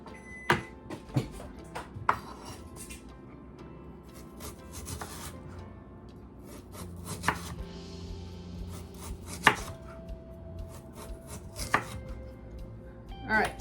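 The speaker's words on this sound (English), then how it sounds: "we're gonna cut it in planks. And this is gonna give us a julienne for our daikon." A knife cuts daikon radish into planks for julienne on a cutting board, making scattered sharp chops and sliding scrapes at an irregular pace, fairly quiet with no speech.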